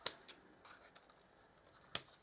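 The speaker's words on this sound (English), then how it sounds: "Then I'll just trim that off a little bit." Scissors snip ribbon being trimmed for a handmade card, two sharp close cuts at the start and end with faint rustling of the ribbon and paper between them, no talking.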